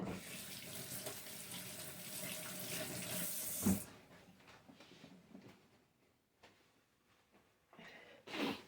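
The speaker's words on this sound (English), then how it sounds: "Let me rinse my hands a bit." Water runs from a kitchen tap as hands are rinsed beneath it, a steady close splashing for almost four seconds, followed by quieter drips and soft handling sounds.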